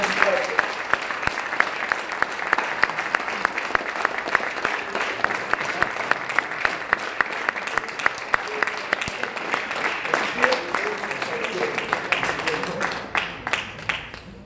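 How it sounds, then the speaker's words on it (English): A large crowd at a retirement ceremony claps in sustained, dense applause that continues steadily before tapering off near the end. "let's give her a big round of applause."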